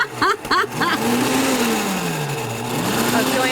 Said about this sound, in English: we're just going to blend it all up so that's smooth